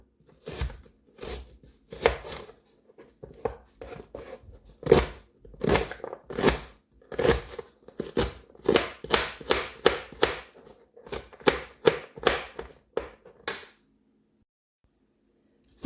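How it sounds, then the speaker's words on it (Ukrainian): A knife chops an onion into cubes on a cutting board in quick, steady strikes, close and crisp, with brief pauses between bursts and no talking. "Нарізаю кубиками цибулину, тру морквину і буду тушкувати на олії."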